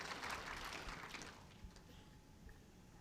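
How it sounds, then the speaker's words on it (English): A crowd at an indoor bowls arena claps appreciatively for a few seconds, the applause loudest at first and then fading to a light scattered patter. "Appreciative crowd"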